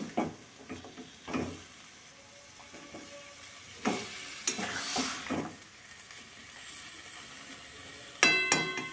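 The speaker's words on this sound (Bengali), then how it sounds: "ঢাকা ছাড়াই আমি এটাকে এভাবে কষিয়ে নেব" Chicken with winter vegetables being sautéed uncovered over a medium flame, with faint sizzling and intermittent scraping, clattering stirs of a spoon in the pan.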